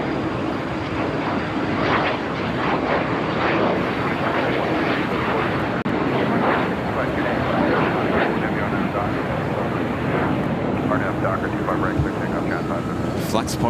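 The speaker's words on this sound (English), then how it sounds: "United Dreamliner heading on down to 25 right" A United Boeing Dreamliner descends toward runway 25 right at Los Angeles airport, its engines a steady, broad distant roar, while a person talks intermittently over it.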